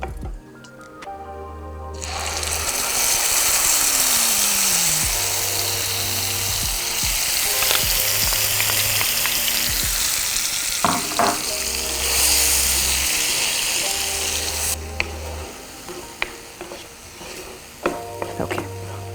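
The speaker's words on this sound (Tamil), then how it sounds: "இதில் இந்த அரைச்ச விழுதை இப்போ நம்ம சேர்த்துக்க போகிறோம்" Ground mint paste, with cumin, hits a hot pan and sizzles in a loud, steady hiss for several seconds. A low hum runs intermittently underneath, and scattered taps and clicks follow as the hiss fades.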